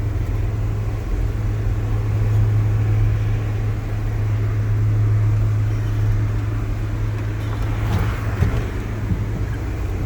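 A truck drives along with a constant low engine rumble and road noise that holds steady throughout, with no one speaking.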